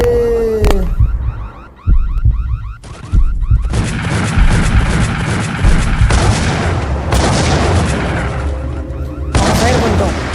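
Gunfire in the Max Payne game comes as sharp bursts and booms mixed with a wailing alarm-like tone, loud and layered, with shots breaking in between stretches of continuous noise.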